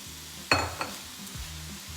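Shredded Napa cabbage cooks quietly in a pan for egg rolls, a soft low sizzle broken by one sharp stirring clatter and a smaller follow-up scrape.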